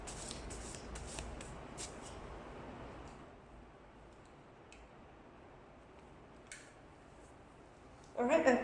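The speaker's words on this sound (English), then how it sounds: "So I will be shuffling for Princess Serenity." Tarot and oracle cards are shuffled in quick, faint riffling bursts at first, then softer occasional shuffling ticks, ending in a brief louder rustle.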